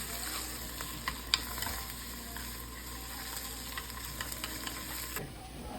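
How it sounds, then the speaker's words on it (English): Eggs scrambled in a hot pan for steak and shrimp fried rice, with a steady soft sizzle and occasional faint scrapes and taps of a utensil, quiet throughout and without talking. "So you're gonna scramble the eggs as if we just doing breakfast."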